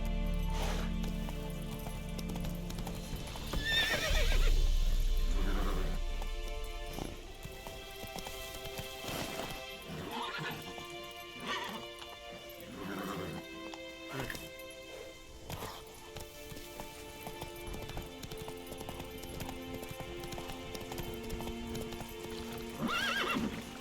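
A horse in The Witcher 3: Wild Hunt Next Gen gallops with steady, rapid clip-clop hoofbeats, close and continuous, broken by a loud whinny early on, over game music and ambient sound.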